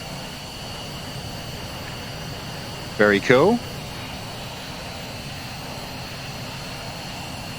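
An A-10 Warthog jet engine spins up with the canopy open in the VTOL VR flight game, a steady whine and airy roar that holds throughout, with a brief spoken remark partway through.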